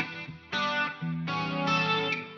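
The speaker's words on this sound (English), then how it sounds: "Like a bit of a circular kind of reverb." Sustained electric guitar chords ring out through a swirling, spacious circular reverb effect from a Fractal unit, 80s-style tone, changing chords a few times.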